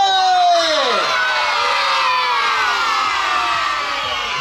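A group of children at a hotel parrot show in Turkey shouts a loud, drawn-out cheer in unison, then the voices trail off into a sustained crowd roar.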